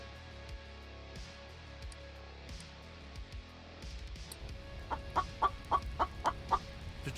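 Chicken clucking in the survival video game The Infected, a run of short, sharp clucks rising toward the end, close by over a low steady game ambience.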